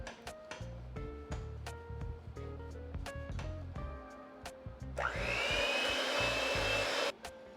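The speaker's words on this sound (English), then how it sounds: "before I turn my mixer back on, I kind of work the flour into the batter." An electric stand or hand mixer starts up and whirs steadily at a constant pitch while beating cheesecake batter with flour. It follows a stretch of clinks and light handling sounds as the flour is worked in by hand.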